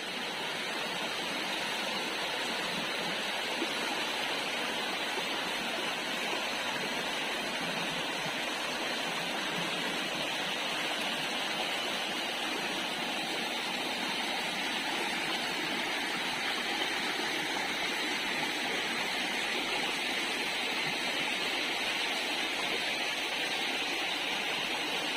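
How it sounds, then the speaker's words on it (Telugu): Water tumbles between rocks at Kotulagundam waterfall, a forest falls in Nellore district, making a steady broadband rush that holds constant and fairly close throughout with no voices. "అక్కడ చూస్తున్నారు కదా నీళ్లు ఎలా దూకుతున్నాయో ఆ రాళ్ల మధ్యలో నుంచి"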